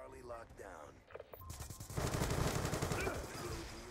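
Rapid video game gunfire in a ranked online shooter match bursts out loud and dense, a sustained rattle of overlapping shots after some brief speech-like sounds at the start.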